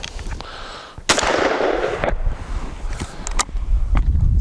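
Shotgun loaded with steel number 7 shot fired outdoors at a squirrel-size gel block, a single sharp loud blast followed by rumbling echo, wind buffeting and a few fainter knocks.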